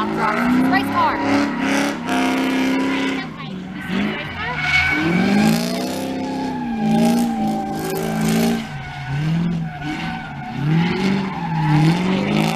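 Race cars drift at a drift event with loud, sweeping engine revs and squealing, skidding tires, heard close and continuous.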